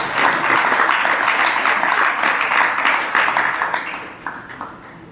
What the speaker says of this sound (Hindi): बुजुर्ग ने ताली बजाई